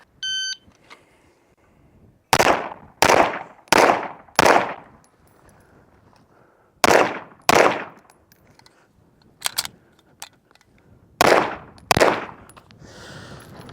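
Race City Defense RC9 pistol fired at 25 yards from a kneeling position: a short timer beep, then loud, sharp close shots in a rapid string of four, followed by spaced pairs and a stray shot after pauses.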